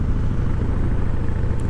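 A Harley-Davidson Fat Boy cruising at 40 mph in sixth gear around 1,540 rpm, its engine giving a deep, steady, throbbing low rumble that stays close and constant with no voices.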